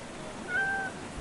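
A cartoon cat in the point-and-click adventure game The Little Acre gives a single short meow after being prodded with a feather, clear and close against a soft background hum.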